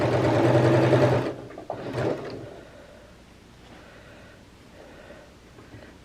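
A sewing machine stitches seams for a Simplicity 8612 garment, whirring loud and steady for just over a second, then a short second burst before dropping to quiet room tone.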